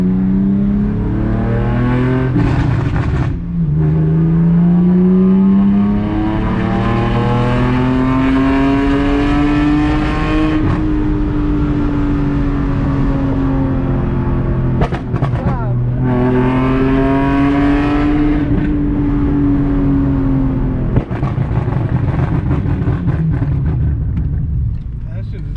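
An Infiniti Q50 engine revs hard and climbs steeply in pitch through the gears, to 6,000 rpm in second, loud and close, with a brief drop between shifts and voices underneath.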